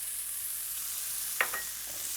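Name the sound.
grated carrot and onion frying in oil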